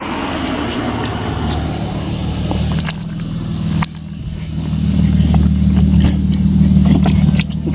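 A security guard's car drives up close by in a car park outside an abandoned school, its engine rumbling steadily and swelling louder as it approaches, with no talk over it.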